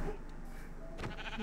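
A short sheep bleat in Minecraft, close and fairly faint, heard alone in a quiet scene.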